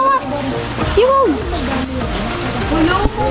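Short, high bird chirps rise and fall over a steady background of people talking, with one brief brighter tweet standing out in the middle.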